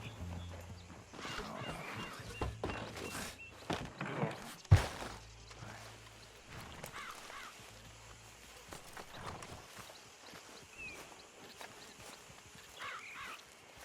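Hooves of a horse-drawn wagon in Red Dead Redemption 2 clop irregularly at moderate distance amid outdoor ambience, with a sharp knock partway through and faint bird calls in the background.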